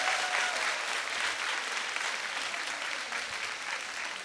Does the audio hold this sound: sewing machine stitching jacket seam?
no